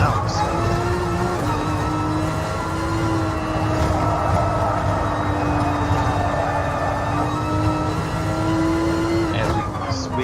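A race car engine in the GT Sport racing video game revs high and continuous, holding a sustained whine with slight pitch shifts as it speeds up and gears down, with a brief burst near the end.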